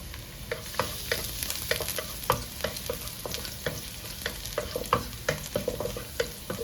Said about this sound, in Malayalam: ഓയിൽ ചൂടാകുമ്പോൾ ഓരോന്നായിട്ട് ഇട്ട് കൊടുക്കാം നമ്മൾ അരിഞ്ഞു വെച്ചിട്ടുള്ള ആ വെളുത്തുള്ളി ഇരുന്ന് ഒരു പിടിയിലോട്ട് ഇട്ട് കൊടുക്കുക